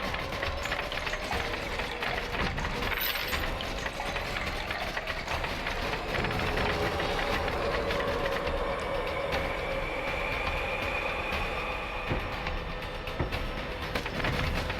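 A train in the video game Choo Choo Survivor rumbles and clatters steadily for the whole stretch, a continuous mechanical drone with no one talking.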